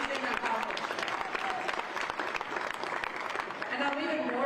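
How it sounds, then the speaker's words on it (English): An audience at a charity event against childhood hunger applauds, a fairly faint, steady patter of clapping over about four seconds with voices mixed in underneath. "And so give yourselves a round of applause."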